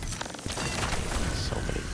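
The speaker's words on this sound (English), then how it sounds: "So many explosions." Video game explosions from a Destiny-style Stasis Titan build pop and crackle in quick succession, a dense flurry of sharp bursts and shattering ice-like impacts at moderate loudness.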